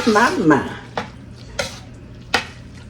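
A spoon stirs and mixes dressing in a pan, a thick scraping swirl at the start followed by three sharp clinks against the pan at steady intervals; a voice is briefly heard at the opening.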